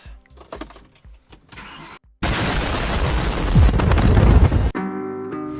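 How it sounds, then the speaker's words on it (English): Light clicks and a starter cranking, then a BMW E92 M3's S65 engine catches with a loud roar before dropping to a steady, rumbling idle. "Let's go ahead and get the E92 started up"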